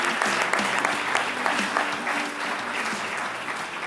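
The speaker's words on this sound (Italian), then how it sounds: "facciamole un applauso per tutto quello che fanno" Studio audience applauding on an Italian sports television broadcast, a dense steady wash of many hands clapping at full volume with no voices, fading slightly toward the end.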